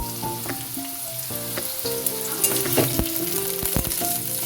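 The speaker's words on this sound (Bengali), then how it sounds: "পটলটা আলুর সাথে ভেজে দিচ্ছি" Potatoes and pointed gourd fry and sizzle loudly in a pan, with a continuous crackle and intermittent scraping clinks of stirring close by.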